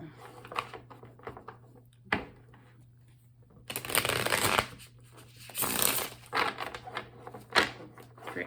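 A brand-new Light Seers Tarot card deck being shuffled, soft riffles and taps in irregular bursts with louder flurries in the middle and end, close and quiet over a low background hum.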